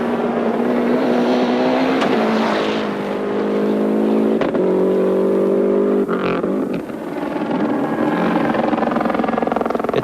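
Lancia rally car on a stage at Rally Australia 1991, its engine note rising and shifting through gears as it passes at a moderate distance, with steady background noise and no talk.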